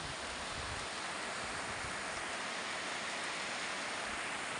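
Steady rain falls over rice paddies on a wet day, a soft, even hiss of faint distant patter with no voices.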